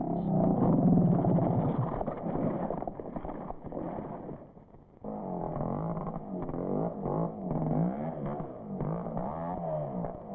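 Yamaha trials motorcycle on a loose surface, its small engine revving hard with rising and falling throttle bursts, loud and close, some wavering pitch sweeps as the rider blips the throttle.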